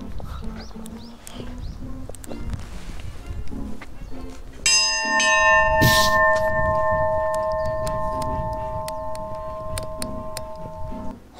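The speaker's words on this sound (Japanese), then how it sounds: "本日2回目の鐘鳴らしです。" A happiness bell at the Kitaura roadside station in Oita, Japan, is struck once and rings out loudly, its sustained tones slowly fading over outdoor background noise.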